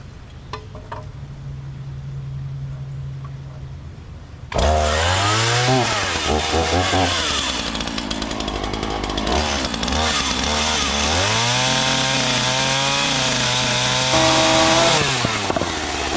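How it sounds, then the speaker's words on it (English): A chainsaw idles briefly, then roars up and bites into wood for a long, loud cut while framing a house portico, the engine pitch sagging and rising as it bogs and recovers under load. "I'm going to go grab my chainsaw, because that's how I'm going to cut this"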